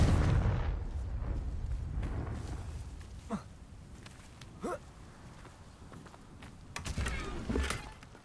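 Confringo blasting spell going off in Hogwarts Legacy, a video game: a soft rumbling blast fades out, followed by a few brief, distant booming thuds and whooshes over a quiet ambient background.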